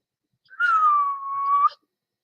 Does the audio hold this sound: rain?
no